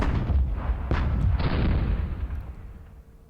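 An artillery battery fires in the Modern Campaigns Middle East 67 wargame, a loud deep booming blast with a heavy rumble that rolls on and slowly fades, no voices.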